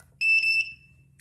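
A single bright electronic beep tone from a heat press signaling it is ready, held briefly with slight pulsing, then fading away, followed by a faint short blip.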